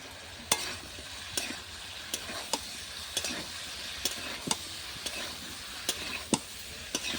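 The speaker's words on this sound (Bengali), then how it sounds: "সমস্তটা ভালো করে কষিয়ে নেব" Cauliflower stems with ginger and green chilli paste sautéed over a clay stove, a steady soft sizzle broken by regular sharp clicks of a spoon scraping and stirring the pan, close and alone without talk.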